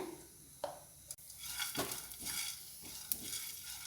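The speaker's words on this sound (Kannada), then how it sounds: "ಸ್ವಲ್ಪ ಇದನ್ನು ಕೆಂಪಗಾಗೋ ತನಕ ಹುರ್ಕೊಳ್ಳೋಣ" Urad dal with cinnamon and three cloves roasts in a hot pan, with a soft continuous sizzle and scattered scrapes and clicks of a spoon stirring against the metal.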